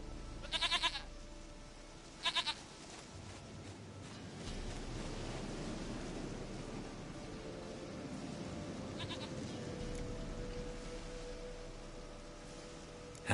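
A goat in a video game lets out short, wavering bleats, two close together near the start and a fainter one later, over a low, steady ambient wash with no talking.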